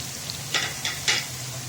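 Vegetables and spices sizzle steadily in a hot pan, with a few louder crackling bursts as they are stirred.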